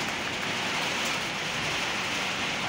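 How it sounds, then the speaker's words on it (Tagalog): Heavy rain and strong wind at a tower crane make a loud, constant roaring hiss, close and unbroken throughout. "Napakalakas na ulan mga ka-idol, no? Grabe."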